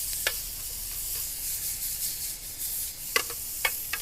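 Morel mushrooms sizzle steadily in a pan on a trail cooking stove, a soft continuous hiss broken by a few sharp clicks and scrapes near the end.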